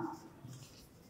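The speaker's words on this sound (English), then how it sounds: "If I'm writing here Yadav, I have to write here capital Y" Faint, brief scratching of writing on a board during an online class, soft and close.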